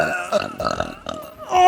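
A loud, drawn-out burp rings out in public inside a Walmart, a croaking, rumbling eructation in a few pulses, close and alone without talk.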